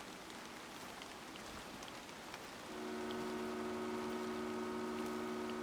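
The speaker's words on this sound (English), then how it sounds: "I even turned up the volume just so I could hear the rain." Soft, steady rain hisses across a Chernobylite game landscape, faint and even throughout, joined midway by a low, constant droning hum.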